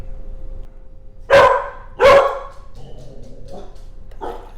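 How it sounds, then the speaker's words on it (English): An excited dog gives two loud, sharp barks close by, followed by softer yips and whimpers over quiet room noise. "My dog's excited about it."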